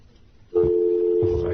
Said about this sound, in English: I hate dialing on this phone because I can't see it.